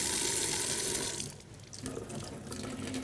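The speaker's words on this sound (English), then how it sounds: "rinse it under water" A vegetable is rinsed under running tap water, a steady close splashing stream that dips briefly midway as the produce moves beneath it, with no talking.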